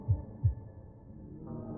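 Two deep, thudding heartbeats from a video game sound effect land close together near the start, followed by a low hum that lingers and then swells slightly.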